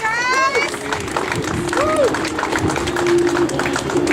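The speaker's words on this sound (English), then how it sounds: "you can't be tired of clapping already" Outdoor crowd at a car cruise-in pin-up contest clapping and cheering steadily, with whistles and chatter mixed in.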